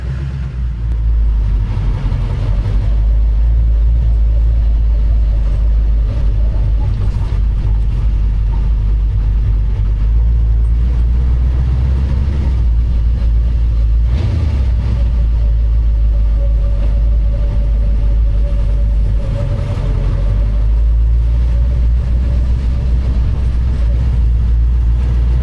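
A car engine runs steadily on a test drive after interior work and new gauges, a loud low rumble with gentle swells in revs and road noise throughout, no talk.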